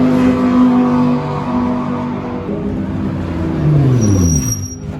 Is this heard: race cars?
yes